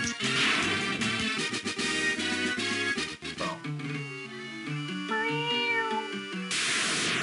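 A pet cat meows repeatedly and close to the microphone, the cries rising and falling over game music.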